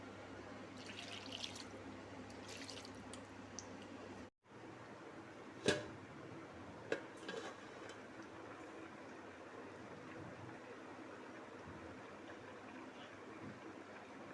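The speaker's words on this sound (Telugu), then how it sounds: "ఇది ఈ విధంగా కుక్ అవుతుంది అన్నమాట" A watery village-style curry of bochchi fish and tomato simmers in a pot on the stove, giving a faint, steady bubbling hiss with one or two brief sharp clicks and no talk.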